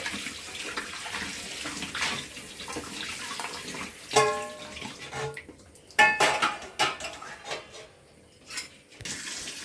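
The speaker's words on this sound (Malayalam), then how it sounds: "ഞാൻ പാത്രമെല്ലാം കഴുകി വൃത്തിയാക്കി" Running tap water splashes over dishes in a sink, with sharp clinks and clatters of pots and utensils knocking together, the water cutting off briefly near the end.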